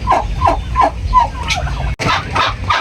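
Heavy broad-breasted turkeys gobble up close in a quick run of loud, warbling calls, several overlapping bursts in under three seconds.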